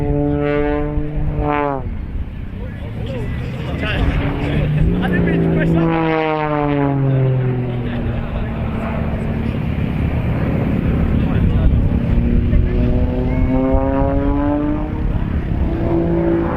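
Display aircraft at the RAF Cosford airshow descending in a knife edge spin after a hesitation roll, its engine a loud, steady drone with rising and falling pitch across the pass, under continuous commentary.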